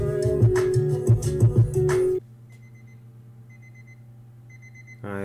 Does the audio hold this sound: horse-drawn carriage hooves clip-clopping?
no